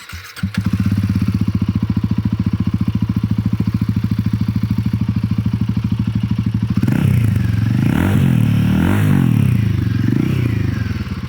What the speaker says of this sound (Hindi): आपने भाई इसका बढ़िया जो एग्जॉस्ट नोट है वो सुन लिया